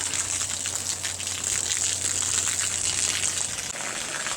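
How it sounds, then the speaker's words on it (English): Water gushes steadily out of a cut household water line during an outdoor burst-pipe simulation, giving a constant close rushing hiss with no breaks. "Now you have the water running out."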